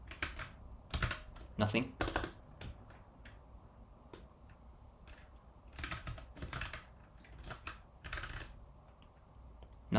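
Typing on a computer keyboard in short clusters of crisp key clicks, close and moderately loud, with a quiet voice speaking between the bursts.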